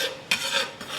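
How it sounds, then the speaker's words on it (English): Coriander is stirred by hand into a bright green dip, giving soft, wet scraping and swishing strokes, two or three quick passes close by with no talk. "we're going to stir that in by hand"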